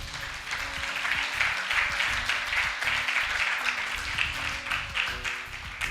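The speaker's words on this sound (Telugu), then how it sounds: "గట్టిగా చప్పట్లు కొట్టు" A congregation applauds during a sermon by Bro. Johnson, a steady, dense wash of many hands clapping without pause, moderately loud and a little distant in the hall.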